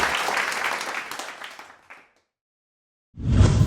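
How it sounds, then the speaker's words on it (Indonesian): An audience at Jakarta Future Festival applauds a guest speaker; dense clapping fades out to silence, then a fresh burst of loud applause starts up again. "Boleh kita kasih tepuk tangan buat narasumber saya hari ini yang begitu luar biasa."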